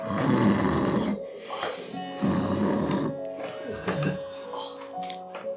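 A voice imitates loud snoring, with two drawn-out rasping snores followed by softer snuffling and breathy noises.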